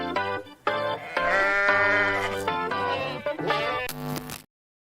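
Goat bleating, a loud wavering cry repeated several times over a few seconds, heard alone with no talk and ending in abrupt silence.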